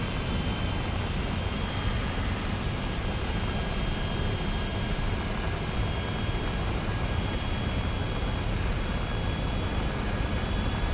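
Aircraft engines spool up in War Thunder, where an ME-262 is flown: a steady, loud broadband roar with a faint high whine holds without a break the whole time.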